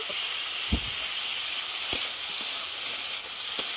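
Tomatoes stirred into a frying pan over low heat for a chicken stew: a steady close hiss of frying with three sharp utensil knocks at uneven intervals.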